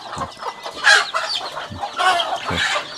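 Village chickens cluck and squawk nearby in a remote hillside settlement, with busy overlapping calls from several birds and a few soft low thuds mixed in.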